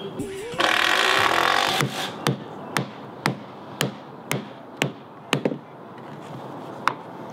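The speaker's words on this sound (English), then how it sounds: "I have not hammered a nail in a deck in 20 years, I don't think" A hammer drives spiral shank nails into a deck's double rim joist, with about ten sharp, evenly spaced blows ringing out after a brief burst of noise, close and clear in an outdoor setting.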